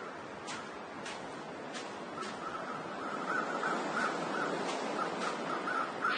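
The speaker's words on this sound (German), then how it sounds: "Sind Raben eigentlich ein Anzeichen für irgendwas? So ein Schwarm kreisender Raben?" A flock of ravens in The Long Dark caws from a distance, with repeated harsh calls scattered over a steady windy background hiss, faint and irregular for about six seconds with no voices.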